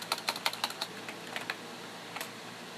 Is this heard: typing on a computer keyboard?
yes